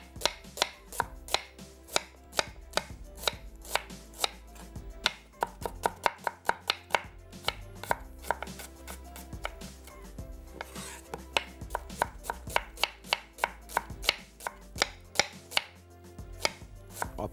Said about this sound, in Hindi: यहाँ पे एक अदद दरमियानी प्याज है जनाब, इसको हमने स्लाइस कर लेना है